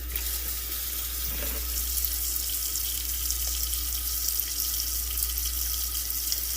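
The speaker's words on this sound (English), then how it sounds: "You're gonna fill up water to cover the whole noodle so that it gets a little bit softened up" A kitchen tap runs steadily, filling water over vermicelli noodles to soak them, a constant close rushing stream with a low hum beneath and no pauses.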